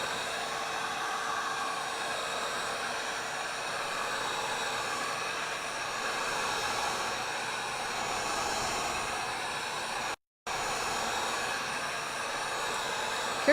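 A heat gun blows steadily as it warms resin on a round pine board, a close, even airy whine that runs throughout with a brief cut near the end and no talk.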